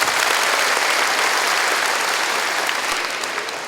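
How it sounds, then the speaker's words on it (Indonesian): A crowd claps for the street vendors at a Bandung vendor ID card handover, a dense, sustained wash of applause that stays loud and even before easing slightly at the end. "Tepuk tangan buat Bapak Ibu"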